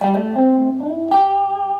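A clean electric guitar on its middle pickup, with a bright, twangy tone, rings out two chords in turn, each left sustaining with no other sounds around it.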